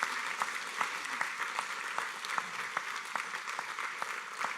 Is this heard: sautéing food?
no